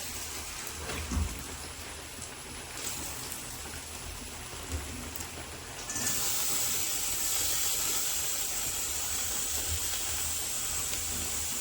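Ginger and garlic hit hot oil for a country-style chicken curry, giving a steady, close sizzling hiss that jumps louder partway through and then holds, with no talking.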